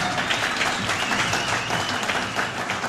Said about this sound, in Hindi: तालियां इमाद वसीम के लिए